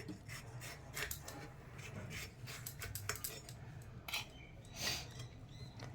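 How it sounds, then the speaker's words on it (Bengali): A knife slices yellow capsicum into long strips, giving a series of soft, scraping cuts in an irregular rhythm against a board, close and fairly quiet, with no talking. "এবারে আমরা হলুদ ক্যাপসিকাম কেটে নিচ্ছি"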